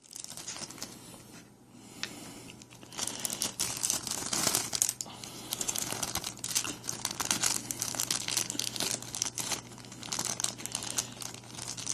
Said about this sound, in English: the wings are actually sealed into the plastic, not just folded over. So cut it apart to get them out.